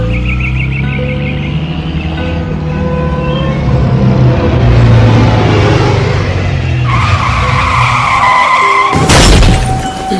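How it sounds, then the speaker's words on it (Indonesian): A car brakes suddenly with a loud, drawn-out tire skid, then a crash and shattering impact near the end, heard close and loud over a busy background. "Tuh tingali mobil urang jadi rusak gara-gara didinya ngarem ngadadak."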